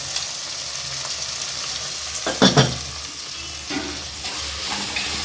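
Tomatoes and masala sizzle steadily in hot oil while being sautéed for a fish curry, with a few louder scraping stirs of the spoon in the pan, close and without talk.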